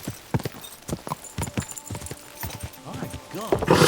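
A horse's hooves clip-clop in the medieval video game Kingdom Come: Deliverance 2, a close, uneven run of sharp hoof strikes that grows busier and louder toward the end, with a voice briefly mixed in.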